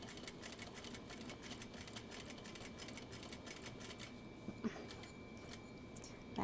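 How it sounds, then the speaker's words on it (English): A sewing machine stitching close to the fabric edge in a home sewing room, a quiet rapid mechanical whir in bursts, close by with no speech. "All right, sewing real close to the edge here."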